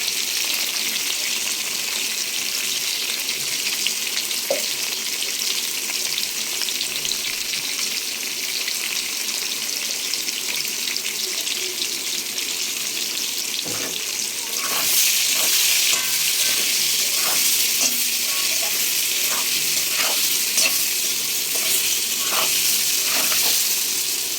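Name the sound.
fish frying in oil for fish curry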